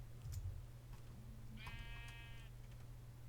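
A Minecraft sheep gives one short nasal bleat midway, moderately near, over a low steady background hum with a few soft clicks.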